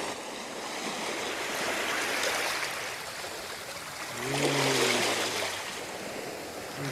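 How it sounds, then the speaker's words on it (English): Surf washing onto a tropical beach, a steady broadband rush of breaking waves that swells louder midway, with a brief tonal sound briefly riding over the water. "That's the water. The water on the beach."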